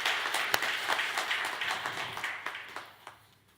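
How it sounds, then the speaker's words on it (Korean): Church congregation applauding during a Sunday worship service, distinct claps rising in a brisk patter and then tapering away to quiet near the end. "우리 하나님께 큰 영광의 박수 한번 드리겠습니다."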